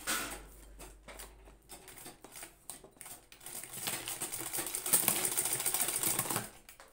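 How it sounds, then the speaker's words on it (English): A sewing machine stitching jogger fabric, its needle rattling in quick repetitive bursts with short pauses, growing busier and louder toward the end, close and without talk. "So I'll go ahead to sew"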